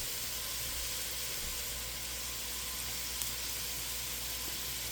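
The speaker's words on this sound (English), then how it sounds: "Love the smell of browning garlic." Garlic browns in a soup pot for venison vegetable soup, giving a faint, steady sizzle and hiss that runs evenly throughout with no talk.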